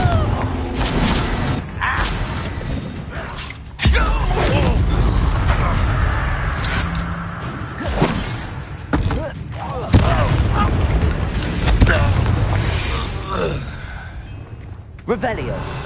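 A Confringo blasting spell in Hogwarts Legacy goes off in loud booming blasts amid combat noise, several sharp explosive hits spread across the stretch, with a voice shouting.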